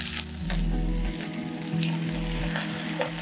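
Wet spinach hitting hot olive oil in a pan, a loud, dense sizzle with crackling spatter throughout and occasional stirring scrapes, without talk.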